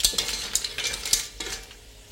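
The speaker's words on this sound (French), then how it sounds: "On peut rajouter les moules et les coques. On mélange un petit peu. Fait revenir une petite minute." Mussels and cockles being stirred in a buttered pan, with soft scraping and clinking of the utensil against the pan and light sizzling, in quiet irregular strokes.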